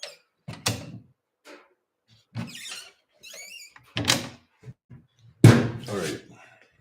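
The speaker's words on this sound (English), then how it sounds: "let's just say that this door's in the way" A door during a home renovation being moved and shut, with several separate knocks and thuds at irregular intervals, a louder bang near the end, and faint movement noises between them, nearby.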